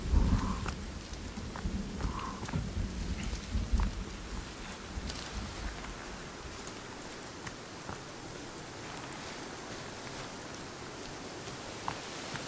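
Rain falling in the video game Sons of the Forest, a steady soft hiss of drops with a low rumbling wash, louder in the first few seconds and then settling into an even, moderate patter.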